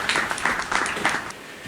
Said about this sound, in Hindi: आप एक बार ताली बजा दीजिएगा